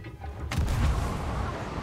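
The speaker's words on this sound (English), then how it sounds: "And I'll do cannon fire from here." A single heavy cannon shot in a fortress-raid video game, a loud booming blast with a rumbling tail that fades slowly, standing out over low background noise.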